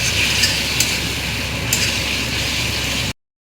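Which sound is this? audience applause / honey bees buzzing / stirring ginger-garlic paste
stirring ginger-garlic paste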